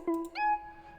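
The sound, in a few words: custom synth in FL Studio Harmless plugin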